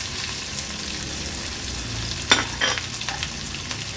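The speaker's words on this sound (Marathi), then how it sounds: "हिरव्या मिरच्या आणि कांदा घालणार आहोत फोडणीला" Green chillies and onion crackle and sizzle in hot oil tempered with mustard seeds, cumin and curry leaves, a steady frying hiss broken by a few sharp pops and stirring sounds.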